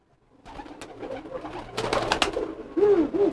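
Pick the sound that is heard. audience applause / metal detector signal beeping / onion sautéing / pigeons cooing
pigeons cooing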